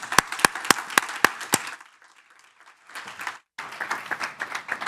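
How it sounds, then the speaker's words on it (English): A few sharp, close individual claps open, then a lull, then a broader burst of audience applause at an ECHO gathering, mid-level and uneven. "can you guys give Bev a round of warm applause?"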